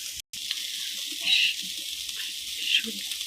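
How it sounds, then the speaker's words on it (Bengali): Water is poured into a pan of fried cauliflower and vegetables for a Bengali fish curry. It makes a steady, close rushing gush that lasts the whole stretch, with a short break near the start. "সবজিটা আমার ফ্রাই করা হয়ে গেছে তো এখন আমি জল দিয়ে দিব"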